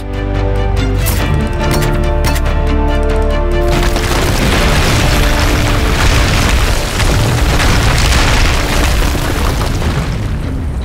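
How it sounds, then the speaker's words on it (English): Massive booms and rumbling explosions fill the soundscape as Di Ravello's statue is torn apart by tethers in Just Cause 3, loud and continuous with a dense roar of debris and blasts throughout. "Rico using the physics of the world, and his new multi-tethers, to force Di Ravello's statue into inflicting damage upon itself"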